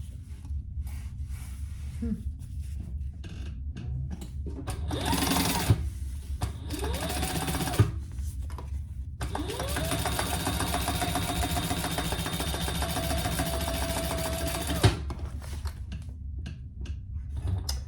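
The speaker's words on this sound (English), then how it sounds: "And then we'll turn that over and top stitch right there." A sewing machine top stitches a crossbody bag in several bursts, its steady motor whir running for long stretches, loudest and longest near the middle, with short pauses and handling noise between runs.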